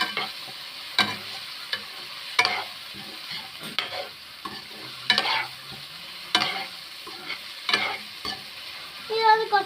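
Onions and green chillies for a Kerala egg roast are stirred in a frying pan, with close scraping strokes every second or so over a soft, continuous sizzle.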